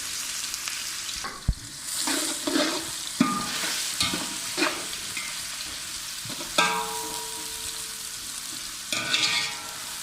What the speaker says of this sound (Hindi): अब हमने 350 ग्राम घी ले लिया और उसे अच्छे से गर्म कर लिया है और ये तकरीबन आधा किलो प्याज को हमने काट लिया है। ये इसमें चली गई।